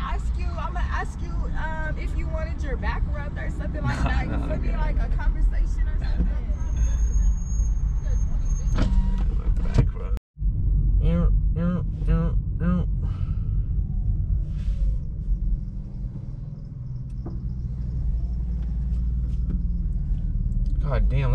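A car driving through heavy traffic in Tijuana, low engine rumble and road noise under near-continuous talk and background chatter, with a brief dropout midway.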